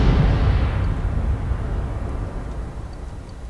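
A huge explosion goes off in the video game Persona 4, a loud deep rumbling blast that starts at full force and slowly decays, with no talking.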